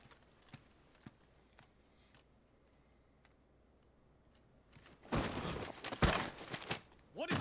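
Horse hooves clip-clop in a video game. Light, sparse ticks are heard at first, then a louder, busier stretch of clattering and thumps comes in near the end.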